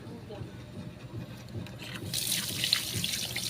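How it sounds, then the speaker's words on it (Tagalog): Water bubbling and hissing in a pot for sinigang, a steady close roil that grows brighter and louder partway through, with some background clatter. "kumukulo na"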